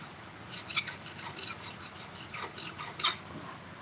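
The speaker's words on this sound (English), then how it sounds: "They are the best for scraping gaskets." A scraper rasps old gasket material off the block of a Kawasaki FE290D small engine, making quiet, close scraping strokes in an uneven rhythm, each stroke a short scratchy rub.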